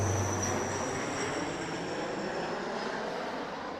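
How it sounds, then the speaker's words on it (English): A low-flying jet aircraft passing overhead near an airport, a broad steady roar with a faint high whine, fairly quiet and distant in outdoor ambience, with no talking. "Jet coming over my shoulder."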